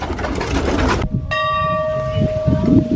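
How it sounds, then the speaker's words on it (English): A school bell at a pioneer homestead schoolhouse in De Smet, South Dakota rings out clearly, a bright sustained clang with long ringing overtones after a stretch of outdoor rumble and movement. "So there's a class just coming out of session. Bell is ringing."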